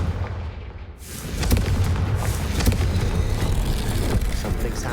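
A Confringo blasting spell explodes in the Hogwarts Legacy video game. A loud, dense roar of blast noise swells in after a brief quieter moment and rumbles on steadily to the end.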